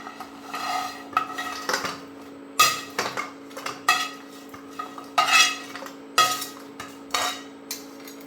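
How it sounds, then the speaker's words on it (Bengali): Metal utensils clink and scrape against a pan and bowl in irregular bursts as fried prawns are transferred into a bowl, with a faint steady hum underneath. "এই পাগুলো ভাজা হয়ে গেছে, এগুলো এখন একটা পাত্রে তুলে নেব"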